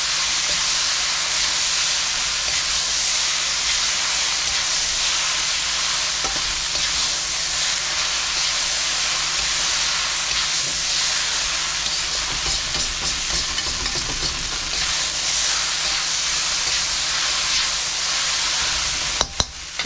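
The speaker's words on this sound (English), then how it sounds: "And in with our noodles. Toss these over the top. Look at that nice char. And start stir frying." Pad thai noodles stir frying in hot oil with a steady, loud sizzle and hiss that runs the whole time, broken only by occasional scrapes and tosses in the pan.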